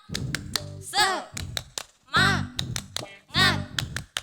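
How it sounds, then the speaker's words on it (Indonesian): A 'tepuk semangat' clapping routine in a children's online church service: short rhythmic clap patterns, close and crisp, alternating with a voice chanting between the claps. "Tepuk semangat"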